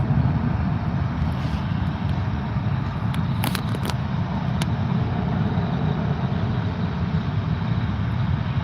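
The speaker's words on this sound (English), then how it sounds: "We've got Qantas Australia pushing back now as well." A Qantas airliner pushing back from an airport terminal on New Year's morning, heard as a loud, steady jet engine roar and broad rushing noise, unbroken and fairly near throughout.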